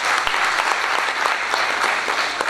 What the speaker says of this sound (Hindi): इनके लिए बहुत एक बार ताली बजाएंगे